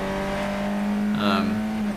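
A Fun Cup race car's engine drones steadily at close range during a race at Croft, holding a constant pitch with a brief brighter rise midway, faint voice traces mixed in.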